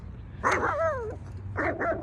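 A dog gives short, excited barks and yips as if at an intruder, with a brief high whine between bursts, close and fairly loud against a low background hum.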